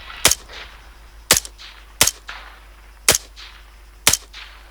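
Five sharp, loud single gunshots in the video game Arma 3 on Altis, spaced about a second apart in an even rhythm, each with a short echoing tail over quiet background.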